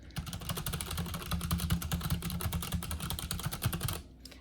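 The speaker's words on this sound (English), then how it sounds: "So let me open up a tab and just start slamming on the keyboard" Rapid, continuous key presses on a mechanical keyboard fitted with silent red switches, typed hard and fast in a room setup; a dense, muted clatter with no pauses, close by, ending abruptly.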